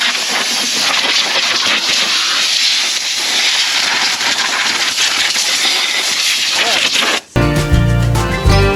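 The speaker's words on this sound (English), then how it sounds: "let's get our air hose, blow all of this" A compressed air hose blasts debris off the engine of an abandoned Lincoln Continental left sitting for 32 years, a loud continuous roaring hiss that runs unbroken for several seconds before stopping abruptly, followed by a different, tonal sound.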